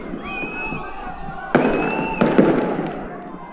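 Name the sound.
loud dynamite blasts at a protest march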